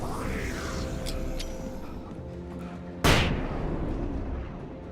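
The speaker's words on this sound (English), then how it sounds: "I should stop staring at the flashbangs when they go off" A flashbang grenade goes off in a video game: one sudden sharp bang partway through, loud and close, followed by a lingering ringing wash over the steady game background.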